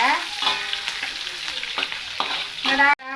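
Onions with dried red chillies fry for a pumpkin stir-fry, giving a constant close sizzle broken by repeated scraping stirs and a brief tonal sound near the end before a sudden cutoff.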